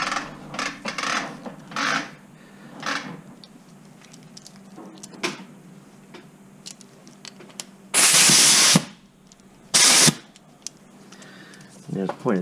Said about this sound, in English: simply with an air hose, I'm going to blow into this compartment here where the fans basically are